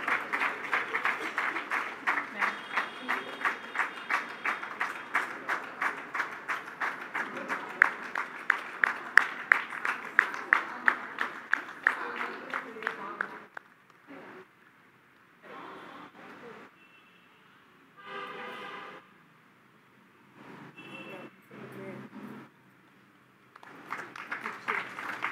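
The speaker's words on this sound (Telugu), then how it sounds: "అందరూ క్లాప్స్ తోటి మేడంని వెల్కమ్ చేద్దాం." An audience applauds to welcome a woman guest at an alumni felicitation event, a long run of dense hand claps that gradually thins, then breaks into scattered bursts with gaps and brief voices.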